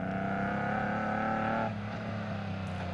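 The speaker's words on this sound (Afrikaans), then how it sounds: "Hoe lekker klink hierdie Nissan." A Nissan off-road racing car engine revs hard at an off-road race, a loud, sustained roaring drone that drops in pitch partway through as the revs ease off.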